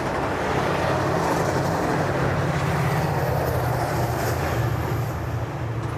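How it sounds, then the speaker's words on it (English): Caltrain commuter train rumbling at a station, heard from the parking lot as a steady, loud, continuous roar with no talk. "There's the Caltrain train."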